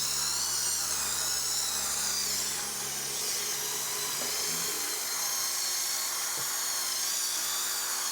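A drill-powered brush scrubs the carpet floor mats of a 2017 Rogue, giving a steady, close, high-pitched whine throughout with no pauses and no talking.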